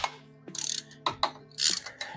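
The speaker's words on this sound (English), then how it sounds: "And we start taking our spark plug out." A ratchet clicking through several short, loud bursts of turns as a spark plug socket on an extension loosens a BMW spark plug, heard close up with brief pauses between strokes.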